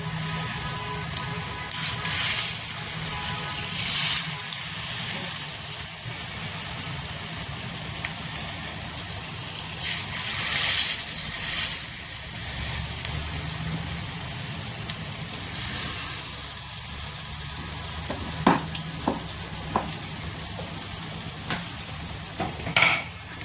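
Water chestnut flour pakoras frying in hot oil on a gas stove over high flame, a continuous close sizzle and crackle with occasional stirring scrapes and bubbling bursts.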